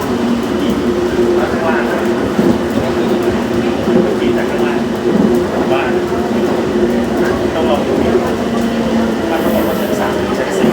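A Bangkok Gold Line electric train pulls into a station with a steady, loud rolling hum and rumble that continues without a break. People talk nearby over the train noise.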